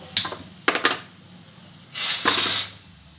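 A home kitchen pressure cooker cooking dal gives short bursts of hissing steam and sputtering water, a few quick spurts followed by a longer, louder hiss near the end.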